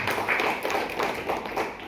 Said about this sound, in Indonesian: Tepuk tangan buat Bapak Ibu semua.